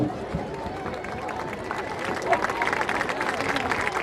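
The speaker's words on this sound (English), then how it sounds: "One more round of applause, please" Crowd at a 2013 high school homecoming football game applauding the king, queen and court, scattered clapping and cheering mixed with crowd chatter and a nearby voice, building slightly louder toward the end.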